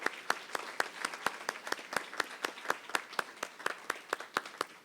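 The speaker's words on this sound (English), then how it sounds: "let's give them another round of applause" A small audience at a citizens of the year award ceremony applauds the award winners with a sparse run of distinct, evenly spaced claps, quiet and close, each crack separate.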